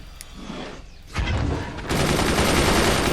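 Shots from enemy guns slam into a fort in the game Forts, a loud burst of rapid impacts and booms building into a dense, sustained barrage of gunfire.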